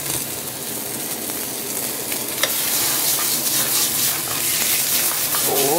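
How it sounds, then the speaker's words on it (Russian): Food searing on its ends in a hot pan for a Spanish romesco sauce, a dense, continuous loud sizzle that swells slightly midway, with a faint scrape or two. "Так, обжариваем с торцов."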